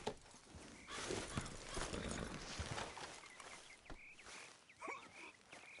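Horse hooves clip-clop at a walking pace while riding in Red Dead Redemption 2, with a whinny and snorts near the end over soft outdoor ambience.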